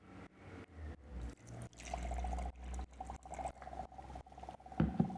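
Water is poured into a salt and sand mixture in a series of gurgling glugs and splashes, close and moderately loud, with uneven pauses between bursts.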